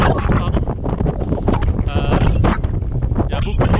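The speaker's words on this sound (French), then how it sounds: "Il y a beaucoup de vent, c'est assez violent" Strong, violent wind on the Alpine Crossing trail roars continuously into the microphone, a loud steady buffeting with gusts and no pauses.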